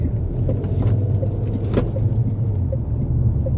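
Mahindra XUV 7XO petrol automatic SUV accelerating on the road, heard from inside as a steady low engine and road rumble with no talking.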